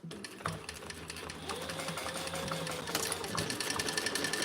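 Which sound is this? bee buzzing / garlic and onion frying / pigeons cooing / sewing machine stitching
sewing machine stitching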